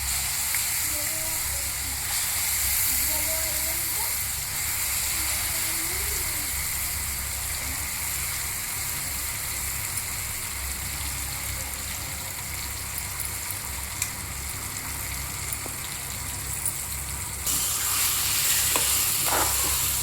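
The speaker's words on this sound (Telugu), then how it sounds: "దీన్ని ఒక 15 మినిట్స్ చిన్న మంట మీద వేయించుకోవాలి." Carrot and mango chutney fries in a pan over a low flame, giving a dense, steady sizzle that runs unbroken and fairly loud throughout, with faint faraway sounds in the background.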